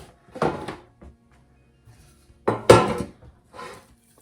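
Gluten-free Parker House roll dough is handled into a baking pan, with a few separate knocks and clatters of the pan and utensils between stretches of near silence.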